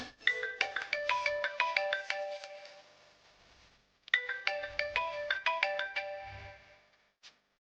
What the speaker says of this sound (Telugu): ఈ టైంలో మిథున కాల్ చేస్తుంది ఏంటి?